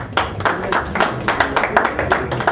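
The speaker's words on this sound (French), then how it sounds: "On vous prie de l'applaudir." A crowd claps at a Kassav event at Tonel in Brooklyn, New York, giving scattered, uneven applause with distinct individual claps standing out against a murmuring background.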